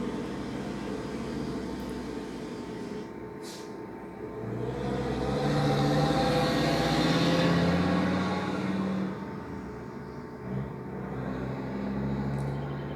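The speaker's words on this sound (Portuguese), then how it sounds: "E eu vou esperar passar esse caminhão aqui agora." A truck passes on a nearby road, its rumble swelling from faint to loud at the midpoint and then fading away, with no talking.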